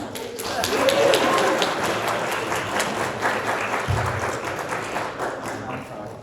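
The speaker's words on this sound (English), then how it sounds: "The applause says it." Audience at a fan convention panel applauds, a sustained, even crowd clapping lasting several seconds, with a brief low thump partway through and faint voices mixed in.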